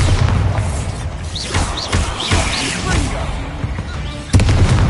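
A Bombarda explosive spell blast in Hogwarts Legacy, loud thumping impacts amid creature shrieks, ending in a sharp, powerful blast near the close.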